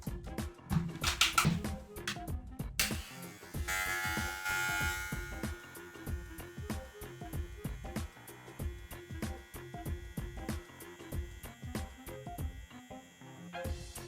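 A VGR V-685 cordless hair clipper runs on a bench during an RPM test, a close, steady motor buzz with a pulsing hum and some handling clatter at the start.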